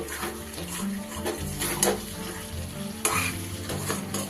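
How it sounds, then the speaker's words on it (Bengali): A spoon stirs yogurt-marinated chicken (doi chicken) in a pan, giving soft wet scraping and shuffling over a low continuous sizzle, fairly quiet and close, with a few sharper clinks against the pan. "ভালো করে এবার মিশিয়ে নিয়ে এই অবস্থায় একটু কুক হতে দিতে হবে"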